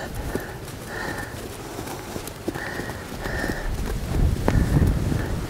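Horse working on a lunge line, hooves clip-clopping in a steady rhythmic beat on the ground, fairly close, with light background noise.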